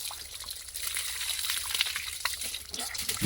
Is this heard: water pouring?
yes